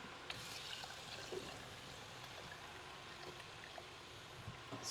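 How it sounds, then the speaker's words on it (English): Soaking water, likely for seeds or sprouts grown as chicken greens, is swirled around inside a jar, giving a soft, continuous sloshing and trickling with small splashes, close up and fairly quiet, with no talking. "Swirl it around."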